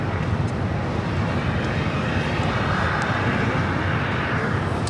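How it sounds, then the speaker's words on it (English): An El Al Boeing 787-9 Dreamliner, bound for Tel Aviv, taking off at LAX: a steady, loud broadband jet roar with wind-buffeted rumble that holds constant throughout, with no voices. "This is El Al, Flight 6, taking off to Tel Aviv, Israel, the 787-9 Dreamliner"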